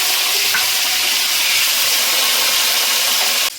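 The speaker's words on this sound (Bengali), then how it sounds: "ফুলকপিগুলো দিয়ে দিচ্ছি, দুইবারে ভেজে নেব" Cauliflower florets frying in hot oil for a vegetarian paneer and cauliflower dish, a steady loud dense sizzle that holds evenly before dropping off abruptly near the end.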